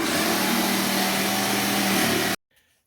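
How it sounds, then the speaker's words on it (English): A jigsaw cuts a shape out of good-quality birch plywood with a loud, steady buzzing drone, close up. It runs without pause for a couple of seconds and then stops abruptly into near silence. "I take a jigsaw and I cut the shape out."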